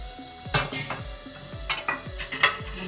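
Rice tipped into a pot over a layer of spices for chicken biryani, a run of soft clattering pours and dish knocks with low thumps, close and moderately loud, no talking.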